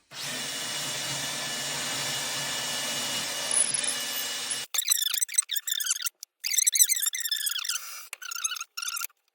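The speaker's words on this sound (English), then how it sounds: "So I'll go ahead and drill this now." A power drill whirs steadily into a wooden door, boring a 15mm hole, for several seconds, then stops, followed by squeaky, intermittent grinding and rubbing bursts as the bit works through.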